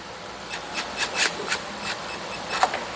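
A screw is driven into a Kawasaki SXi Pro hull extension, giving a series of short scraping, grinding bursts with small pauses between them, fairly faint and close.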